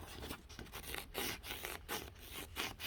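Fingers rubbing across textured, ridged art paper from a book-themed craft kit, making short, close scratchy strokes that repeat in an uneven rhythm at fairly low volume.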